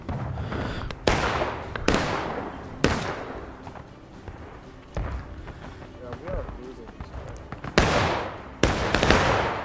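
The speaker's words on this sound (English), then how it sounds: "Union's gonna just line up on this stone wall and fire into them." Musket volleys from Union and Confederate lines in the Civil War shooter War of Rights, several sharp loud reports at irregular intervals over continuous battle noise and voices.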